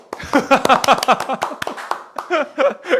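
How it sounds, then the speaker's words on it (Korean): Scattered clapping rises and falls during a Korean talk program, with voices and light laughter mixed in among the claps. "박수."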